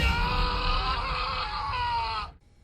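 A loud, drawn-out, melodramatic scream from the Watchmen movie's Rorschach death scene, a sustained anguished cry that holds for about two seconds before cutting off abruptly into near silence.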